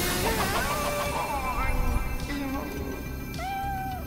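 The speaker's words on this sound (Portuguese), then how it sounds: "Ah, são dois gatos." Two cats meowing in the video game Nioh, several drawn-out, wavering meows up close over a steady background of game ambience.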